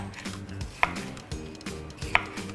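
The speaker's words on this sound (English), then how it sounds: "Next, we will be cutting up some red pepper." Knife chopping a seeded red pepper on a cutting board, two sharp distinct knocks of the blade against the board standing out among softer slicing sounds, with background music underneath.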